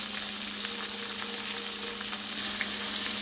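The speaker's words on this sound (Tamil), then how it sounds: "தேவையான அளவு தக்காளி போட்டு நல்லா வதக்கணும்." Chopped tomatoes sauté in a pan for okra kara kuzhambu, giving a steady close sizzle with faint crackles and a low background hum, no one talking.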